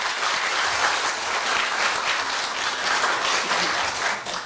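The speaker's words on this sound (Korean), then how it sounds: "따뜻한 박수로 염재호 총장님을 맞이하여 주시기 바랍니다." A large audience at a university staff retirement ceremony claps warmly to welcome the university president, a loud, dense and continuous burst of applause lasting several seconds with no talking over it.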